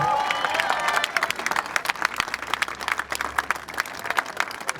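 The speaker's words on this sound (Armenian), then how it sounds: "եկեք ծափերով ողջունի" Audience applause at a political rally welcoming a citizen, dense hand clapping that swells and continues steadily, with a few faint voices under it.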